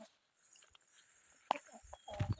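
Chickens and other fowl at a mountain farm's hen coop clucking in short, quiet, scattered calls with pauses between them, heard at a distance in otherwise calm surroundings.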